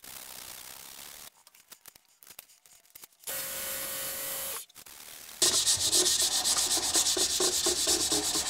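Sanding a turned bolt-action pen blank of coyote jawbone or mule deer antler spinning on a lathe, a steady close rubbing hiss in sections that grows louder and rougher toward the end, broken by brief quiet gaps.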